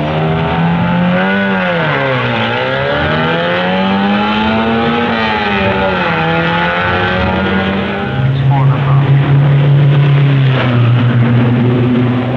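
Racing cars and motorcycles at the national speed trials along Madeira Drive's measured mile in Brighton, by the sea: a loud, sustained engine note rising and falling through gears, then a second machine's deeper drone takes over.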